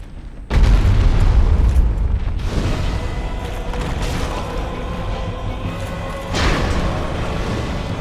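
Black flame pyromancy cast in the video game Dark Souls, a heavy booming burst that hits loudly and then rolls on as a sustained rumble, with a second surge near the end.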